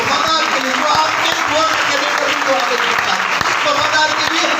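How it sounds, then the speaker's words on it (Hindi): A church congregation applauds during a Hindi-language worship service, with dense, sustained clapping that stays loud and steady throughout, while voices carry faintly beneath it. "आइए उस वफादार परमेश्वर के लिए ताली बजाएं"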